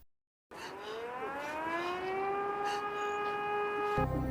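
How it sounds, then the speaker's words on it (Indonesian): A civil defense air raid siren bursts in after a brief silence and wails steadily, its tone climbing and then holding loud and sustained, with a change in the background near the end. "Tiba-tiba terdengar suara sirine yang sangat keras karena hari tersebut adalah hari pertahanan udara"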